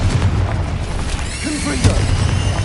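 Confringo blasting curse explosions in the Hogwarts Legacy video game, heavy low booms and bursts in rapid succession within a busy battle mix, with a faint voice in the background.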